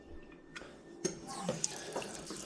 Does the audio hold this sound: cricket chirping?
no